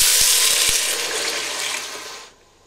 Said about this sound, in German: Nach ein paar Minuten könnt ihr dann das Ganze auch mit 1 Liter Wasser aufgießen.